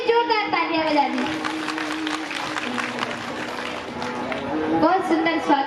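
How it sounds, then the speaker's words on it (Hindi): Audience applause at a Bhagavat katha religious gathering, a steady broad clatter of clapping sustained throughout, with voices and a sung or spoken tone running underneath. "इनके लिए सभी जोरदार तालियां बजा दी"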